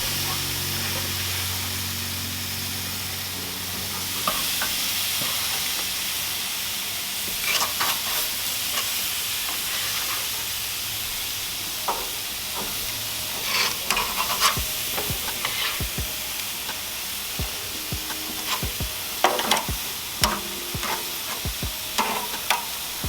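Pork chops laid on a grill give off a steady, close sizzle with crackles and pops that grow busier toward the end. No one talks.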